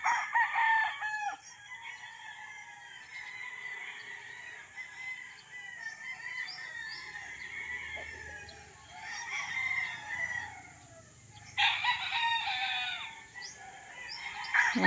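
Roosters crow repeatedly on a farm lot with chickens nearby, long rising calls answering one another at moderate distance, with a quieter stretch between bursts and no one talking.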